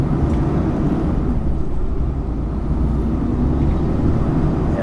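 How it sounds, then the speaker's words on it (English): Loud truck engine running in cold weather, a heavy steady low rumble that fills the whole stretch with no break. "Yeah, this is loud, this truck"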